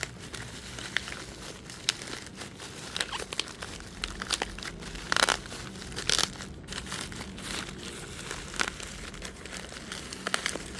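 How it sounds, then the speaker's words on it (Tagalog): Plastic wrapping and bubble wrap crinkle and rustle continuously as a package holding automotive wiring harness tape is unboxed nearby, with scattered sharper crackles and no talking. "May plastic lang siya. Mayroon siyang bubble wrap na naka-box."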